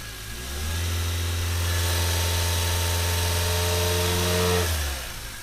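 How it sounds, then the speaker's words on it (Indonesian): A repaired Toyota Avanza engine revs up from idle, holding a steady mid-pitched drone with clear harmonic tones for several seconds before dropping back down, heard close with no talking. "Ini bedanya kan jauh banget antara yang mesin sekarang yang sudah perbaikan ya."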